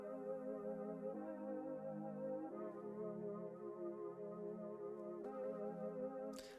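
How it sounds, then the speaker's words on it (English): A sustained synth pad from the UAD Aussie Squares plugin plays alone, its steady layered tones holding with a few chord changes and a bright burst near the end. "And that sound is a UAD synth called Aussie Squares."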